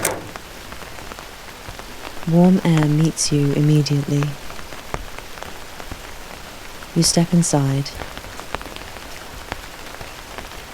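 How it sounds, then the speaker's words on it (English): Steady rain hiss fills the background while a person speaks in two short bursts, the patter softening toward the end. "The sound of the rain fades as you close the front door."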